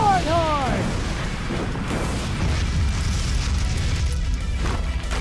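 Animated fire attack explosion, a fire dragon sword strike in a fight: a loud sustained roaring, rumbling blast filling the whole stretch, with a brief swooping tone at the start.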